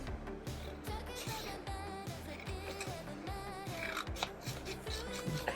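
Repeated snipping of scissors cutting through material, close and steady, with a faint rustle underneath and no voices.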